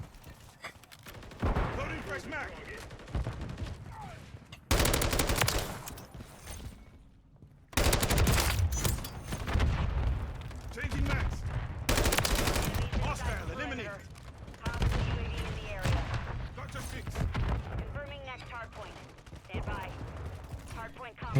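Automatic rifle fire from a Lachmann 556 in Call of Duty MW3 multiplayer rattles in loud bursts with short gaps between them, and mechanical clicks and a voice come through underneath.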